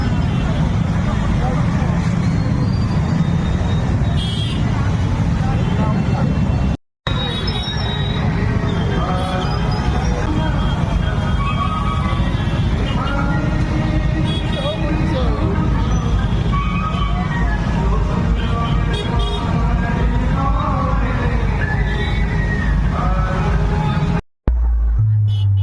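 Motorbike ride through road traffic on Eid day: a steady low engine and road rumble runs throughout, with passing vehicles, people talking and loud music playing over it.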